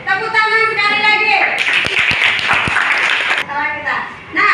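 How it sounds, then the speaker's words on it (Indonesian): A classroom group claps together in a short burst of several sharp, closely spaced claps, with a teacher's voice speaking before and after. "Tepuk tangan sekali lagi."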